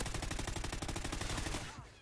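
Rapid automatic gunfire from Call of Duty: Ghosts, a fast burst of evenly spaced shots lasting under two seconds before fading out.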